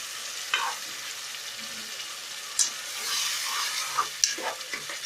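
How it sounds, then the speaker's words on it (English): Tomato onion paste for chicken curry fries in a pan with a continuous soft sizzle, broken by a few sharp scrapes and knocks of a spoon stirring against the pan, close and moderately quiet. "Fry these up to 5 minutes until it turns brown color."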